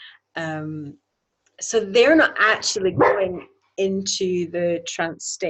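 A pet dog yips and barks a few times close by, sharp short bursts that overlap a man's steady indoor speech.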